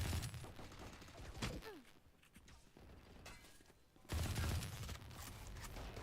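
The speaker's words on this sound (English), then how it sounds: "We see Shotgun user using what I presume is one of his favorite guns, the Ares." An Ares gun fires in a college esports match between Keene State and Cal State Dominguez Hills. A short burst comes early, a quieter stretch follows, and then dense, loud firing noise sets in for the rest of the clip.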